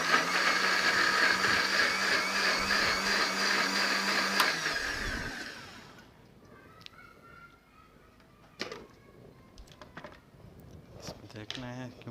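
A kitchen grinder whirs loudly while coarsely grinding raita chutney, running for about five seconds before cutting off, followed by quieter clicks and handling clatter, with a voice speaking faintly in the background.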